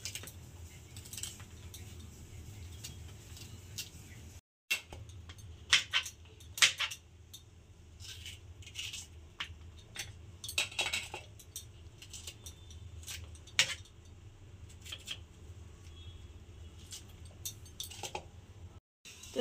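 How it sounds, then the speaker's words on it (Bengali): A knife cuts through okra pods on a board, some of the larger ones halved, making repeated sharp, close taps and clicks at an irregular rhythm with no talking and a steady low background hum. "একই রকম ভাবে সব ভেন্ডিগুলোকে কেটে নেব।"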